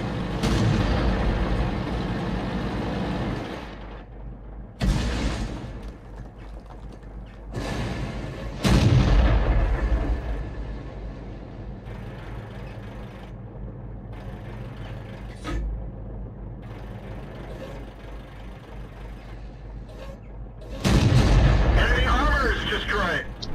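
A Super Pershing tank in World of Tanks fires its main gun several times, each shot a heavy booming blast with a long rumbling tail, spaced seconds apart over constant engine drone, while someone talks throughout.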